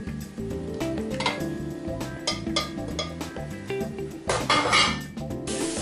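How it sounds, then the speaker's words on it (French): Pork ribs go into a large pot with a cluster of clinks, knocks and soft thuds of meat against metal, close and fairly quiet. "Je le dépose dans une grande casserole et je vais ajouter les côtes levées."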